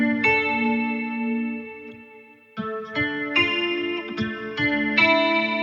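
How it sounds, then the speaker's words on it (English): Dreamy clean electric guitar played through a Fender Tone Master Pro, with a sustained chord ringing out and then a series of plucked notes, soaked in chorus and echo, heard alone. "Yeah, so just kind of like a dreamy clean going on."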